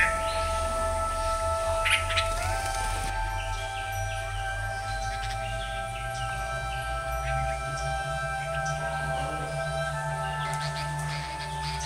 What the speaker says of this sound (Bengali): চারিদিকে কত রকমের যে পাখি ডাকছে,